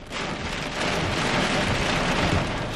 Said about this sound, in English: Oh, let me see the rain.